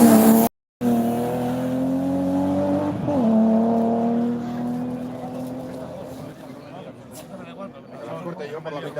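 A rally car at the Gabiria 2023 rallysprint revs hard and passes at speed, its engine note loud and rising before dropping away, with tyre noise and people talking over it.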